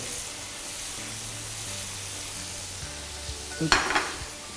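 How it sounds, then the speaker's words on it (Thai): Shrimp frying in hot oil over high heat, a steady close sizzle that swells into louder crackling bursts near the end as more shrimp go in, with no talking. "กุ้งสุกง่ายครับ ทอดแป๊บเดียว ทีเดียวเลยครับ"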